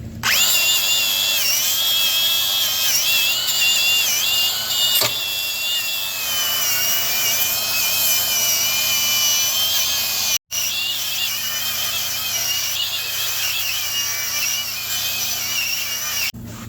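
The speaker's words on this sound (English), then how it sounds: "We like our grinders with no guards around here." An angle grinder with its guard removed runs loud and close during mower maintenance, holding a continuous high, shrill whine that stops for a moment partway through and then resumes, with no talking.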